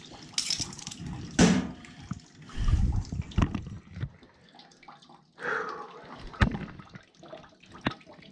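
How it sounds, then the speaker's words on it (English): Water drips and splashes irregularly from a plugged steam return pipe in a heating system, with close, scattered drops and small gushes into a bucket and occasional clunks. "Let that drip because there's still water higher than what I'm working on."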